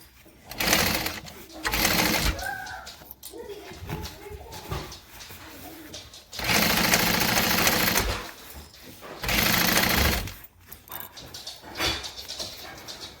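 Sewing machine top stitching a pocket on a hobo-style bag, running in three distinct bursts of steady mechanical whirring with quieter pauses and light handling noises between them.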